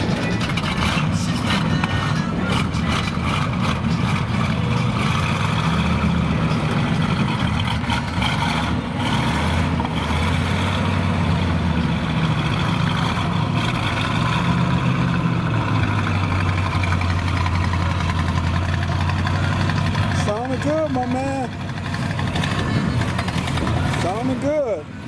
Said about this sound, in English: So you mind firing her up for me?